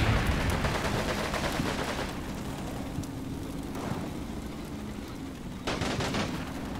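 Machine gun fire from a video game shooter, with dense rattling bursts up front and another sharp volley near the end over a steady rumbling battlefield backdrop.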